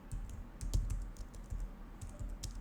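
Soft, close computer keyboard typing as JavaScript code is entered against the Shopify API, with scattered quick key taps and small clusters of clicks, faint and alone.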